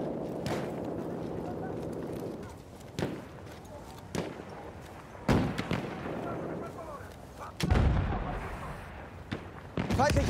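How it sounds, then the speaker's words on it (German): Battlefield 1 combat at Monte Grappa, with a grenade blast and bursts of gunfire: several sharp, loud impacts spaced through the scene over a constant rumbling battle din, with voices calling out. "Ich werfe eine Granate!"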